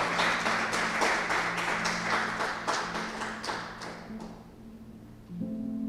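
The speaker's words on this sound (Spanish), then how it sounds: "Denle un aplauso al Señor" A church audience claps during a sermon, a steady burst of applause under a sustained organ or keyboard tone that fades out near the end before the music swells again.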